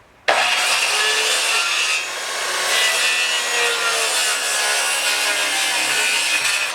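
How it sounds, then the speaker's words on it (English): A circular saw cuts through a wooden wall stud at an anchor bolt during outdoor shed wall framing, a loud, steady whining rip that starts abruptly and runs unbroken for several seconds, with no talking. "I'm going to take a skill saw and I'm going to cut that out."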